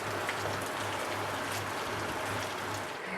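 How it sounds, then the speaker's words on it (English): Heavy rain pours down hard in a marine setting, a dense, constant hiss of drops drumming on surfaces, loud and unbroken, with a low hum underneath and no voices. "Bucketing down with rain again."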